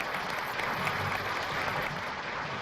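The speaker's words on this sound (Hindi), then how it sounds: "आप मिलकर तालियां बजा दीजिए" A comedy show audience claps together in sustained, even applause for a few seconds, dense and unbroken.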